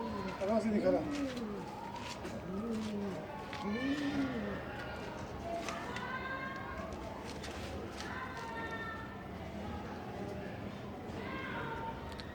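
Pigeons coo repeatedly at close range on a rooftop where a flock of about 45 is kept, with voices speaking over the coos throughout.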